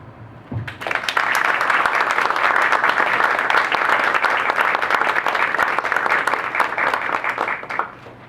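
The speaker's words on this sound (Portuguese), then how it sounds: "eu gostaria de pedir uma salva de palmas para a memória da cultura brasileira" Audience at a panel on restoring Brazil's National Museum breaks into sustained applause, dense clapping rising after a short pause and holding steady for about seven seconds before tapering off.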